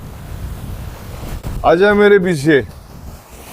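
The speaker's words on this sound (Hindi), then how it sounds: "ओह बहुत जबरदस्त लहरें हैं।" Strong sea waves and wind at a beach make a steady, rough roar up close, which a person's voice briefly talks over.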